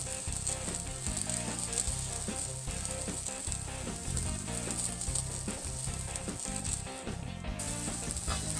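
Mushrooms sizzle in rendered bacon fat on a flat cooking surface for smash burgers, producing a constant close frying hiss with small crackles and pops and no voices.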